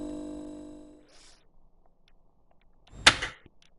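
A door is slapped in the video game Home, giving one sharp, loud thump after a fading tone and a stretch of near silence.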